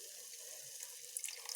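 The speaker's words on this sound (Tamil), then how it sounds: "கொஞ்சம் தண்ணி ஊற்றி" A little water poured into a hot pan while cooking chicken biryani, giving a brief, faint hissing trickle with a few small splashes near the end.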